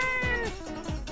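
A cartoonish cat meows twice in the video game Tamale Loco: Rumble in the Desert II, two clear, close, drawn-out cries with nothing else over them.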